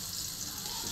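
Garlic and onion sautéing in a pan for a mixed-vegetable dish, a steady close hiss of frying that holds evenly throughout the brief moment with no voices.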